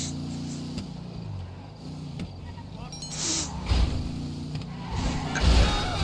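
A car from the exotic exports list drives in GTA Online, its engine humming and revving in layered tones under game effects, with a voice speaking briefly over it.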